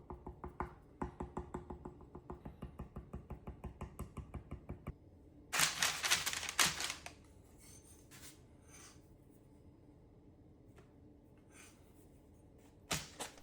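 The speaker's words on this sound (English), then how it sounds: "then you want to dimple your crackers using a fork" A fork repeatedly pricks sourdough discard cracker dough on a board, a steady run of quick, soft taps in even rhythm, then a louder scraping burst and a few scattered knocks, close up and without speech.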